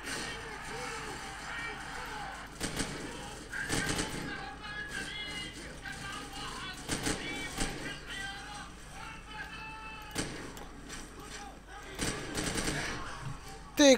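Bursts of gunfire from the video game Call of Duty 4 Modern Warfare crack out repeatedly in short volleys over a steady busy backdrop, with voices talking throughout.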